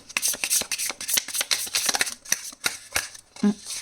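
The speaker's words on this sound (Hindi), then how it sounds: "एक शफल और" Tarot cards are shuffled by hand in quick, crisp riffling bursts that repeat steadily throughout, close and fairly loud, with a short voiced sound near the end.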